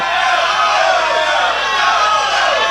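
A large wrestling crowd roars and shouts "no" in unison, a loud sustained mass of voices filling the whole moment.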